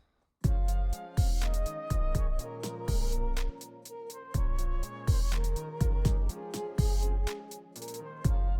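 Hip-hop beat: a deep 808 carries the subs beneath a mid-bass line and melodic keys, hitting in punchy, rhythmic pulses after a brief silent start.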